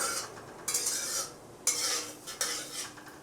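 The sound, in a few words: bay leaves, dried chillies and cumin frying in oil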